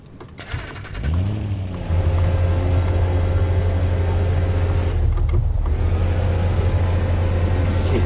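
A Jeep in the Roblox video game starts up, then its engine revs and settles into a loud, steady drone that dips briefly midway before carrying on, with no speech.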